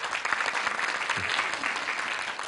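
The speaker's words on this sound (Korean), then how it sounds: "박수로 한번 청해볼까요?" Audience applause at a televised regional talk show, a dense wash of clapping from a seated crowd, fairly faint and even, continuing without pause.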